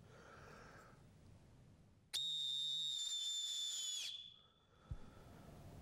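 A contest-winning whistle built to be loud gives one piercing, steady, very shrill blast of about two seconds, close and intense, then cuts off, with quiet room noise before and after.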